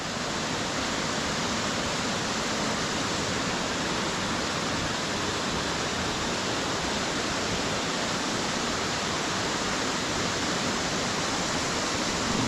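Stichill waterfall pouring steadily, a dense, loud, unbroken roar of falling water close by, with no other sounds breaking through.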